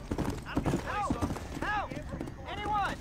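Horse hooves in the Red Dead Redemption video game: a rapid clip-clop of galloping under loud talk, with a horse neighing and whinnying between shouted voices.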